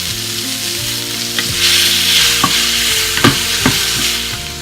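Peppers frying in a pan with ground cumin, salt and dried Mexican oregano, giving a steady loud sizzle up close, with occasional clicks and scrapes of stirring and no talking.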